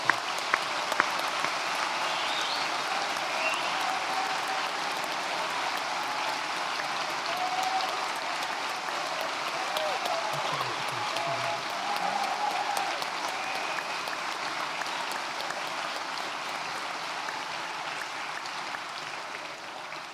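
Sustained applause for graduates at a college graduation ceremony, a broad, even wash of many people clapping in a large hall that carries on steadily and fades slightly near the end.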